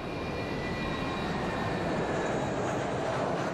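A steady, loud roar of an airplane engine during a go-around fills the whole stretch, broad and unbroken with a faint whine on top.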